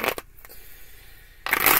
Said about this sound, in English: I think the cards are done shuffled.